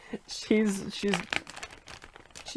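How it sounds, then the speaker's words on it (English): Plastic bag crinkles and rustles in short bursts as craft items are pulled out of it, with a voice talking over much of the noise. "I'm trying to get it out of the plastic bag"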